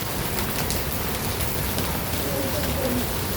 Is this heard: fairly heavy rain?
yes